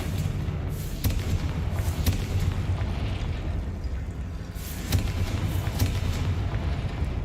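Confringo fire spell explosions in the video game Hogwarts Legacy, a run of booming thumps and bursts over a continuous low rumble, several separate hits spread across the stretch, with no talk over them.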